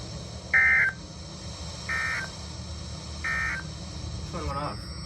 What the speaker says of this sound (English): Whose phone's going off?